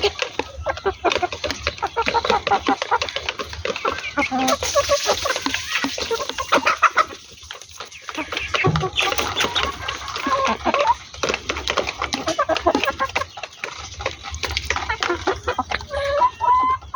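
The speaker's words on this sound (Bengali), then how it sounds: "আমার এখানে সব পাহাড়ি মুরগি।" Hill-breed desi chickens cluck and call steadily at close range, a busy flock chattering throughout with occasional sharper squawks over a constant background hum.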